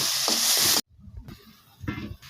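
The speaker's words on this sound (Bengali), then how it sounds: "এখন তেলের মধ্যে দিয়ে দিচ্ছি। এখন একটু ভাজা ভাজা করে নেবো ওকে।" Lentils and potatoes hit hot oil with a loud, hissing sizzle that cuts off abruptly, then return as a quieter crackle broken by stirring scrapes.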